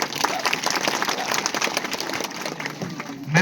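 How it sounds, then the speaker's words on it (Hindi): Moderate crowd applause from an audience at a community gathering honoring those who built an effigy, a steady, dense clatter of clapping with some murmur underneath. "अपने उनके लिए जोरदार ताली बजाओ."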